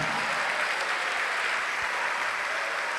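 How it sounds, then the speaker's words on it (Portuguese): A church congregation applauds during a Portuguese-language worship service, a loud, continuous wash of many hands clapping that holds steady from start to finish with no voices on top. "vamos aplaudir ao Senhor"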